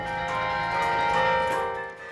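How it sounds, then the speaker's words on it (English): Carillon bells in Indiana University's 61-bell tower ring out in a sustained, resonant wash of overlapping tones, moderately loud and fairly close, with no voices. "The 61 bells in Indiana University's Carolyn Tower are about to sound for the final time"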